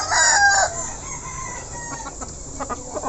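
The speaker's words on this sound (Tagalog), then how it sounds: "Yan yung breeder ko, si Busing, Rhode Island." A Rhode Island breeder chicken gives a loud, short crow-like call. Softer, scattered clucks and light shuffling follow close by.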